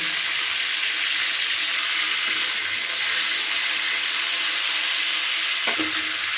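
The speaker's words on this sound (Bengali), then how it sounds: "তো কড়াইতে দিয়ে দিচ্ছি কালো জিরে ফোড়ন" Nigella seeds and prawns sizzle in a hot wok, a steady, close hiss of frying oil that runs unbroken, with a brief clink near the end.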